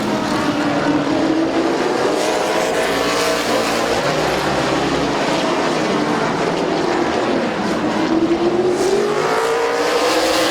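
Stock cars racing at Midvale Speedway, a loud continuous engine roar from a pack running nose to tail, with rising and falling pitch sweeps as cars pass close by, and no talk.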